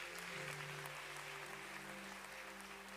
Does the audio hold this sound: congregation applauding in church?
yes